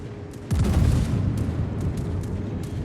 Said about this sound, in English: Shots out on the Bayern.